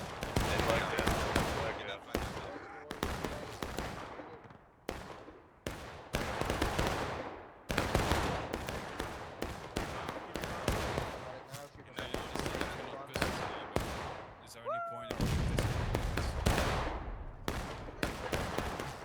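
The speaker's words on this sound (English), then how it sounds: "2 USC trying to put down some cover fire." Musket volleys in the Civil War shooter War of Rights, a long chaotic stretch of many overlapping rifle shots, cracking in uneven bursts near and far across a large battle, almost never pausing.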